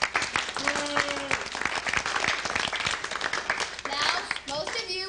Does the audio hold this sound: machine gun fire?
no